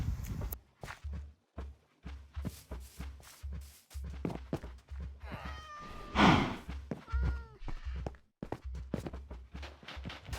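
A cat in Minecraft meows in one drawn-out cry mid-clip, set against a run of rhythmic blocky footstep sounds and other game effects, fairly quiet overall.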